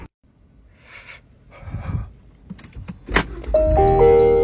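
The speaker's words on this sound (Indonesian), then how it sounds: "Saya yakin itu adalah suara bip peringatan dari sebuah mobil." A car's electronic warning chime beeps steadily near the end, following rustling and handling noises.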